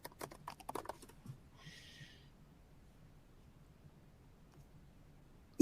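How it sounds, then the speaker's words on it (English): Quick bursts of typing on a computer keyboard, a cluster of soft clicks at the start, then trailing off into near silence with a faint hiss. "I'm going to go ahead and just start typing something in here"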